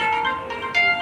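A short electronic phone ringtone plays a tonal melody, clear and steady, with no talking over it.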